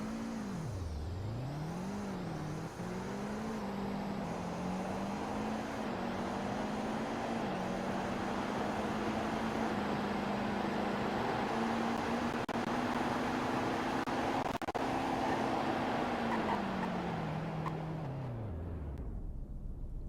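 A car engine in the Roblox driving game Greenville revs up and holds a steady, rising drone as the vehicle accelerates to top speed, then falls away near the end, with no talk over it.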